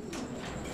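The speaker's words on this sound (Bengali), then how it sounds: "আমরা এই মুহূর্তে দেখতে পাচ্ছি এখানে চমৎকার আরও এক জোড়া কবুতর আছে" Pigeons in a fancy-breed sale loft, a low soft cooing murmur running steadily underneath faint background noise for under a second.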